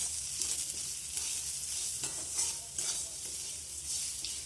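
Green chilies fry in oil for quick moong dal while being stirred, a close, steady crackling sizzle with soft spoon scrapes and no voices.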